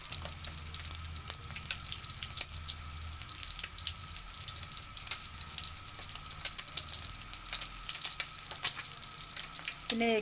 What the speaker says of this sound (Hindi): इनको अच्छी तरह जो है वो फ्राई कर लेंगे